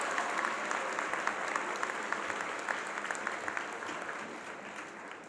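A student body audience at a school ceremony claps together, a dense, sustained burst of applause from a large crowd heard at moderate distance without speech, gradually thinning toward the end.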